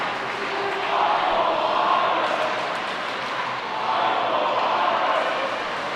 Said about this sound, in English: The crowd erupting into a Let's Go Tigers chant as it's been raucous up to this point